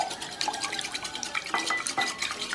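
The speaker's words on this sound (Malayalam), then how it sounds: "ഇതുപോലത്തെ ഒരു ഹാൻഡ് വിസ്ക് കൊണ്ടോ അല്ലെങ്കിൽ ഒരു ഫോർക്ക് കൊണ്ടോ ബീറ്റ് ചെയ്ത് കൊടുത്താൽ മതി" Batter beaten in a bowl with a hand whisk, quick rhythmic metallic clicking and scraping strokes repeating close up and fairly loud, with no voices.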